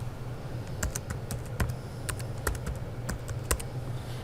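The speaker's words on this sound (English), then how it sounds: "So let's type in Louisville." Close, quiet keystrokes typing a word on a computer keyboard, an irregular run of sharp clicks over a low steady background hum, with no talking.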